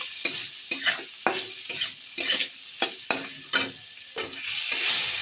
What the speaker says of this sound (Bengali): দিয়ে একটু আলুগুলোকে ভেজে নেব।